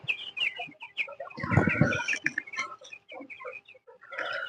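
Broiler chickens cluck and chirp close by in a steady flurry of overlapping calls, with a louder burst of clucking partway through.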